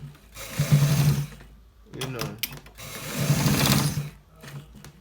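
A sewing machine stitches a shirt collar in two steady runs, loud and close, with a short pause between them where handling noises and a few clicks are heard.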